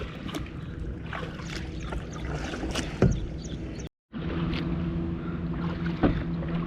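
A kayak paddled across the sea, with steady close splashing and water swishing under a constant low wind rumble and a brief cut to silence partway through.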